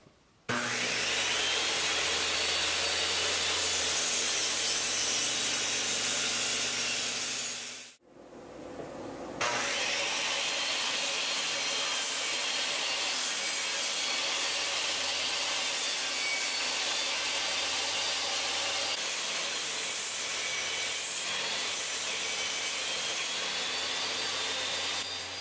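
A circular saw rips through wood with a loud, steady roar and hiss of thrown sawdust, cutting for about eight seconds, pausing briefly, then running on continuously.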